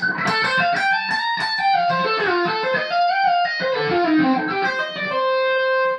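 A clean electric guitar plays a quick, slippery run of arpeggiated notes that glide through chord shapes, ending on a sustained ringing chord, with no talking.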